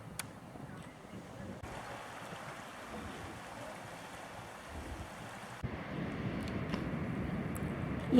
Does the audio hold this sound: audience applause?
no